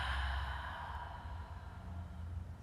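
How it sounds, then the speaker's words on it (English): A deep exhale during a yoga breathing exercise: one long, soft sigh of breath, quiet and close, tapering off toward the end, with no talk over it. "breathing in all the way through the body"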